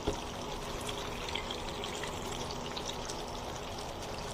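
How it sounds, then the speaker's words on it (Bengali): Broth trickles and pours into a pan of chicken and pointed gourd curry, a soft, steady liquid stream at low volume with no talk. "দিয়ে দিচ্ছি অল্প করে ঝোল, খুব বেশি ঝোল আমি রাখবো না।"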